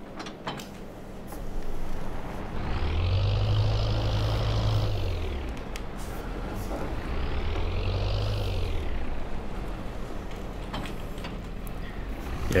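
A John Deere tractor engine in Farming Simulator 22 drones continuously, rising and falling in pitch twice as it revs, with a low rumble and mechanical whine throughout.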